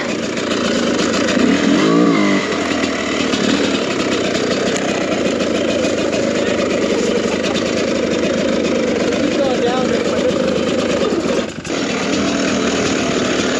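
A 2022 TM EN300 fuel-injected dirt bike engine riding a flowy trail, continuous loud, close two-stroke engine drone with shifting revs and brief throttle bursts, with a voice partly heard over it.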